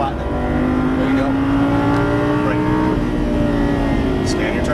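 A Lamborghini Gallardo Superleggera LP570-4 accelerates hard on a racetrack, its engine note holding a steady high drone with rising harmonics, loud and continuous, while an instructor talks over it.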